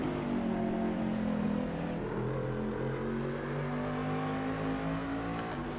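A Daytona prototype race car engine in a racing video game holds a steady, droning tone with a slight rise in pitch, loud and continuous with no voices.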